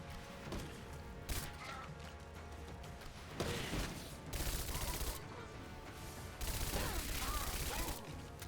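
Gunshots in Rise of the Tomb Raider, a quiet, steady run of rapid shots and clattering impacts with a few louder bursts, heard over faint game ambience.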